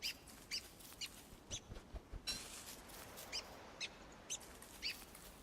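Short, high bird chirps from the video game Don't Starve repeat at a steady pace against a quiet, hissy background, each call brief and clear.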